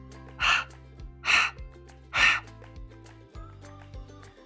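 A voice imitates a dog panting with three loud, breathy huffs spaced about a second apart, followed by quieter background tones.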